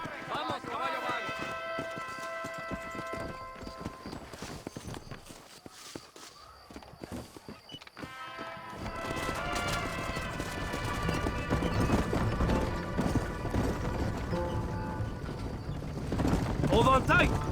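Horses galloping in Red Dead Redemption, steady rhythmic hoofbeats that grow louder and denser partway through, with music and voices over the hooves and crow caws among the game ambience.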